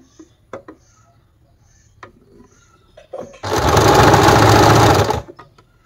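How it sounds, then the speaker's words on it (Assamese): An electric sewing machine stitches old cloth into socks, whirring loud and steady for about two seconds after a few faint clicks and handling noises. "মই এইটো কাৰেণ্টৰ মেচিন বহুত স্পীড আহে"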